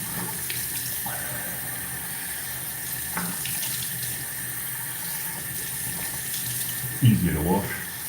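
Tap water runs steadily from a sink faucet during face washing, a constant hiss throughout, with a brief louder splash and gurgle near the end.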